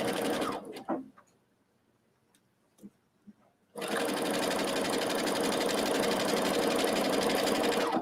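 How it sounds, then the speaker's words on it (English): A sewing machine stitches a fabric face mask wrap, starting with a few short bursts and faint handling, then running in a steady, loud continuous whir for the last half, close up with no talking. "This is very messy sewing right now"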